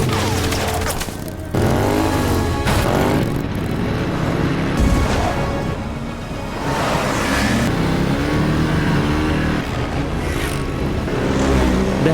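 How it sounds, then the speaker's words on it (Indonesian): Motorcycle engine revving and roaring in a chase after a car, loud vehicle noise with bursts of acceleration and clattering action sounds across the scene, mixed with music and effects. "Daisik mengambil motor warga yang terjatuh dan mengejar mobil Abdullah."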